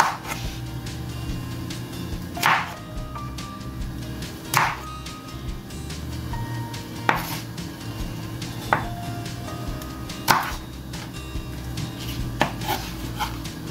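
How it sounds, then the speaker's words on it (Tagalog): A knife chops vegetables on a cutting board for salmon head sinigang, with sharp, spaced strikes every second or two over a steady low kitchen background. "Tapos hiwain natin ang tamtaman lang."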